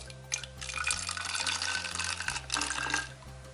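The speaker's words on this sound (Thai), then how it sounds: "เราจะใส่น้ำลงไปนะคะ" Plain water pours from a tap into a bottle of slime glue, a steady splashing, gurgling fill with a slight rise in pitch as the bottle fills, close and alone.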